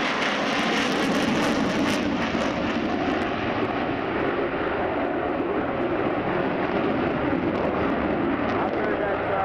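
Display jet engines roar continuously and loudly as aircraft reduce power and descend in a left-hand spiral at an airshow, a broad steady rumble filling the whole stretch.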